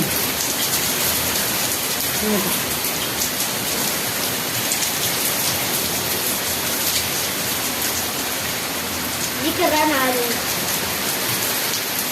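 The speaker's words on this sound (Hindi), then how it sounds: "तो कितनी तेज बारिश हो रही है, बहुत तेज वाली" Heavy rain pours down steadily in a loud, dense hiss, with a couple of faint voices briefly rising beneath the downpour.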